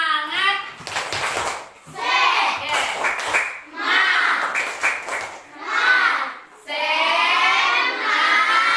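Classroom children do a spirit clap, with bursts of rhythmic hand claps in time with loud group chanting in short repeated phrases.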